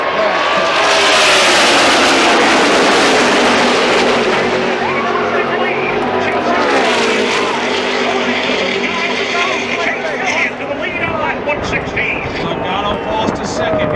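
NASCAR stock cars at the Michigan oval roar past in a loud, continuous engine drone with rising and falling pitch as the pack races, with a commentator talking over the noise.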